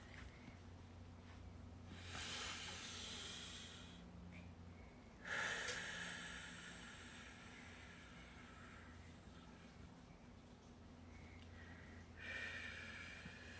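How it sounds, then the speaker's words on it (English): Slow, deep breaths in and out during a group session, quiet and close, with a long inhale, a pause and a second breath against faint background hum. "So let's take a deep breath."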